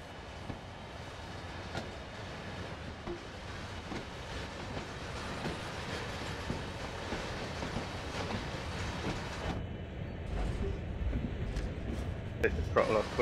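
A train in the Train Sim World video game rumbles steadily in a rail yard, with a continuous low clattering drone that builds slightly louder toward the end.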